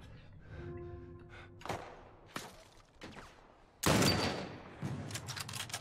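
Gunfire in The Last of Us Part 1 on PS5: a few scattered, sharp shots with quiet gaps between them, then a louder, denser burst near the end, heard without speech.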